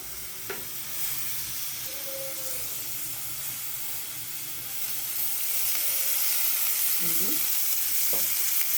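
Grated coconut roasting in oil in a pan on a stove, a soft steady sizzle with occasional scraping stirs, faint and close with no talking.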